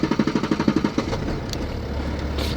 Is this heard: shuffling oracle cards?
no